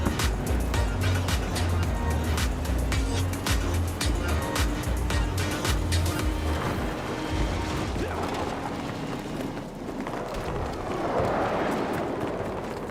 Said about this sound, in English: I'm in the truck.